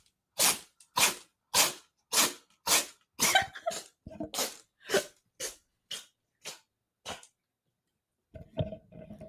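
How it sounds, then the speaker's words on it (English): A pet cat sneezes in a rapid run of about a dozen sharp, close bursts, evenly spaced over several seconds, then stops; a brief murmur of other noise follows near the end. "you get to hear my cat sneeze at stadium level too."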